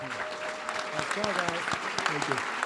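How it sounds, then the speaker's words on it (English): Crowd applause for congressional district debate candidates, steady clapping throughout with voices talking over it. "Give them a round of applause"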